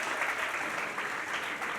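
Audience applause at a song launch event, a steady dense wash of clapping that fills the whole moment at moderate loudness, with no voices on top.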